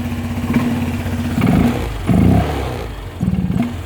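A Honda Vario 125 or 150 scooter fitted with a homemade velocity stack intake, close by, blipping its throttle in several short revs between idle, each burst a throaty rise that quickly falls back.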